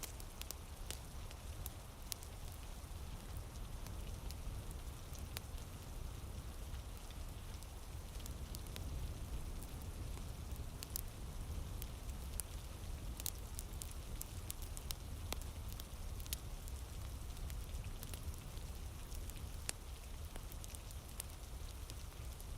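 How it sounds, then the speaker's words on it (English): Heavy rain falling in sheets at night on Hadrian's Wall, a steady dense hiss with scattered crisp drop ticks and a low rumble, constant throughout and with no voices. "The rain is speaking now in sheets"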